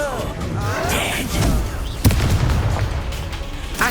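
An Incendio fire spell cast in Hogwarts Legacy, heard as booming bursts and a sharp blast amid a dense, continuous mix of combat effects, with a voice speaking over the action.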